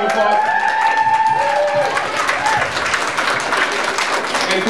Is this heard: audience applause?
yes